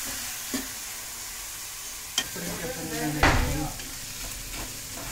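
Onions sizzle softly in a pan in a village home kitchen while a spoon stirs and scrapes now and then, with a few sharp clinks of metal against the pan.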